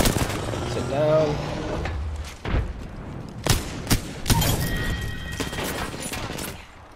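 Apex Legends gunfire comes as scattered sharp shots and quick bursts over steady game ambience, loud and near, with someone talking briefly early on.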